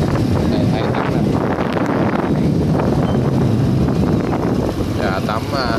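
Strong wind sweeps the back beach at Vũng Tàu, a loud continuous roar buffeting the microphone, with people talking close by over it.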